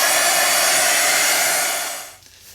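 A hair dryer blows a steady, loud whooshing roar onto gesso on a journal cover, holding constant before winding down at the end, with no talk.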